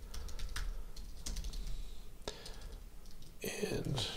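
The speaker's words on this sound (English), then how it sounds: "I'll just type in something like this." Keys clatter on a computer keyboard in quick, uneven bursts of soft clicks, close by and fairly quiet, with a brief louder flurry near the end.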